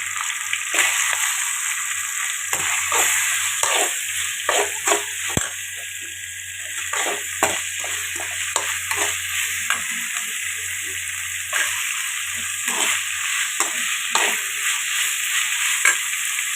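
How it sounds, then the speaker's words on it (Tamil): Onions sizzle steadily in a hot pan after ginger-garlic paste, for mutton kulambu, a constant crackling hiss broken by repeated scraping stirs of a spoon, close and fairly loud. "வெங்காயம் நல்லா வதங்கட்டும்."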